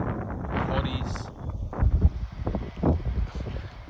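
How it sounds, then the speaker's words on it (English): Wind gusts across an outback farm hilltop near Ballarat, Australia, buffeting the microphone in irregular rumbling bursts, loud and close, mixed with a voice talking. "it's quite windy up here"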